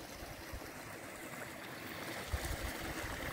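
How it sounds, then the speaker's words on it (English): A forest creek in Colorado's Roosevelt National Forest rushes with a steady, soft broadband wash of flowing water, faint and continuous with no voices. "So here's the creek."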